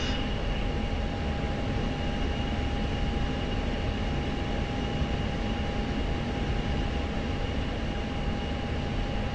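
Jet roaring loudly past in an F-16C flight simulator game, a steady dense broadband engine rush with a faint tonal whine running throughout, no voices.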